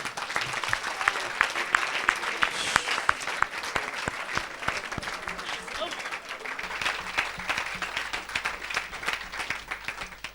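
A church congregation claps and cheers in praise during a French-English service, dense steady applause filling the whole stretch with voices mixed in.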